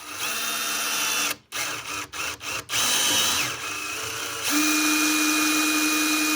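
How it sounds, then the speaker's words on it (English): A power drill bores a 5/8 inch hole for an SO259 bulkhead in an antenna grounding box, whining steadily up close, stopping and restarting in several short bursts, then running on at a higher pitch. "So the SO259 bulkhead does take a 5/8 inch drill bit."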